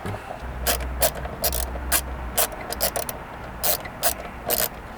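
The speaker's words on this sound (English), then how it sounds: "that'll expose this fastening screw that can be removed with a 7mm socket" A 7mm socket ratchet loosens a fastening screw behind a roof panel on a Ford Bronco Sport. Close, sharp clicking comes in short, uneven bursts with brief pauses between strokes.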